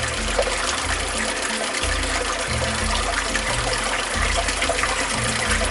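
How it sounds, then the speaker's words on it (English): Water pours from a pipe into a basement sump pit, a loud, constant splashing gush close by, with no voices. "that water is just pouring in there"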